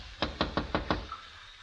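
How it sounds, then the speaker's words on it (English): Five quick, evenly spaced raps of knuckles on a wooden door, close and crisp, followed by a short quiet pause. "I ran up the walk, rapped on the door."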